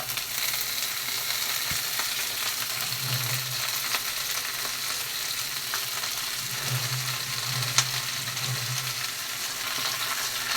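Food fries in a pan on a home kitchen stove while cowpea and tamarind broth is being made, with a steady close sizzle throughout and occasional stirring clinks.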